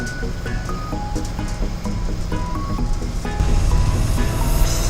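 A Ford F250 under restoration running on a test drive around the block, a loud continuous engine drone with rumbling low end and shifting tonal whine, getting louder toward the end, with no speech.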